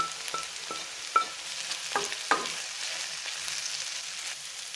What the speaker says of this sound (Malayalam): മുളക് പൊടിയും കൂടെ ചേർത്ത് 3-4 മിനിറ്റ് നന്നായിട്ട് മൊരിയിച്ചെടുക്കണം